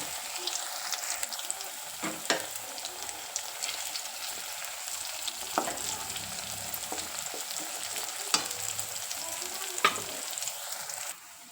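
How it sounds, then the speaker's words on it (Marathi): Coriander vadi frying in hot oil, giving a steady close sizzle that runs through the whole stretch, with occasional clicks and knocks of the pan or utensil and no talk. "मस्त तेल तापलंय आणि छान खरपूस वड्या भाजल्या ना, खूप मस्त लागते."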